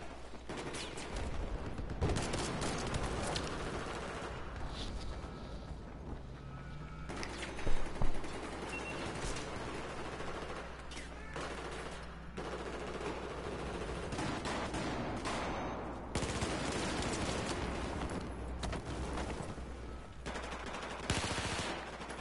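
Video game gunfire laying down suppressive fire, dense bursts of automatic shots and scattered cracks running steadily throughout, fairly low in level, with a sharper burst near the middle.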